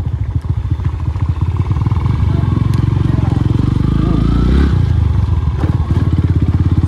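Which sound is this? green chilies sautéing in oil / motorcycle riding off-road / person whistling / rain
motorcycle riding off-road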